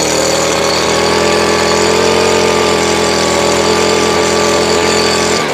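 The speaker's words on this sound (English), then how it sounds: "you can see with this Craftsman blower, I mean, I'm barely opening the throttle" A Craftsman gas leaf blower engine runs close by at low throttle with a steady, loud, droning hum and a faint whine on top, holding constant throughout.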